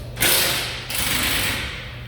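A ratchet wrench works on a dash bolt inside a 2020 Ford F150, giving a close, steady mechanical whirring rasp that swells twice over about two seconds, with no talking.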